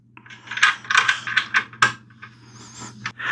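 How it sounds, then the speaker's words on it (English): Hardware is screwed into a heavy-duty monitor arm mount for an ultrawide monitor, producing a close, busy run of metallic clicks, ratcheting and clinking, fairly loud, with no talking. "then we're going to take our hardware and screw that in"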